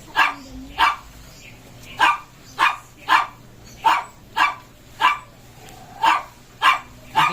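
A dog barks repeatedly in a steady rhythm, about a dozen loud, close barks, with faint background noise between them.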